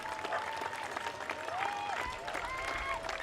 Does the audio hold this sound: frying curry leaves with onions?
no